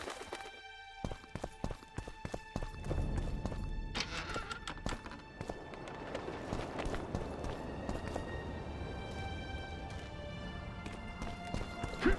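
Hooves of Roach, Geralt's horse, in The Witcher 2, a faint steady clip-clop mixed with scattered thuds and game ambience.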